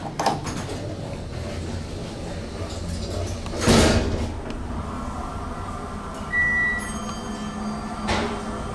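A Westinghouse hydraulic elevator descending, with low steady machinery rumble, a loud door or mechanical thump midway, a brief tone later and another clunk near the end.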